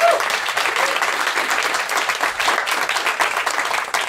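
An audience at a stand-up comedy show applauds with dense, continuous clapping that holds at a steady level throughout.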